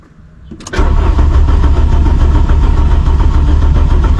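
A car engine tuned with a MaxxECU cranks briefly and catches, then settles into a loud, steady, rough idle close by with no talking.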